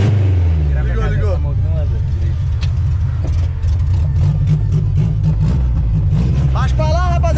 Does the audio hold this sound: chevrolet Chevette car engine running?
yes